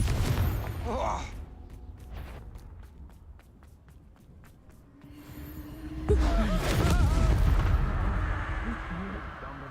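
Confringo blasting spell cast in Hogwarts Legacy, heard as booming blasts and explosive impacts amid combat noise, with a voice speaking over parts of it.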